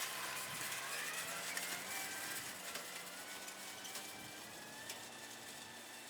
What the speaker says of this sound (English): All right, guys, tractor's over there running.